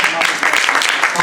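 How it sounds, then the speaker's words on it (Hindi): An audience claps at a Hindi film launch event, welcoming a guest on stage, with dense, steady applause under a voice speaking over it. "सबसे पहले मैं तालियों से स्वागत चाहूँगा माननीय यादव जी का"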